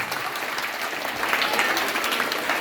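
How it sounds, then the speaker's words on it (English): A school crowd of students claps steadily throughout, a dense wash of applause that swells slightly partway through and keeps going. "please give her a big round of applause"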